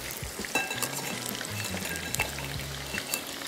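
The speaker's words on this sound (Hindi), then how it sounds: "इनको जब आप डीप फ्राइंग के लिए डालते हैं" Potato pieces deep frying in hot oil, a steady close crackling sizzle with scattered pops and a few faint utensil clinks, with no talk.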